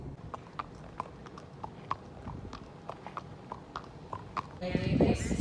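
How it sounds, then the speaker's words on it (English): Rodeo barrel racing horse hooves clop in a quick, regular rhythm on firm ground, fairly close, ending in a burst of louder rustling. "He's getting the full experience of being a rodeo horse this weekend"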